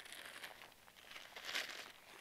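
Soft, continuous crinkling of a plastic bag as fishing groundbait is mixed inside it, close and steady with slight rustling swells.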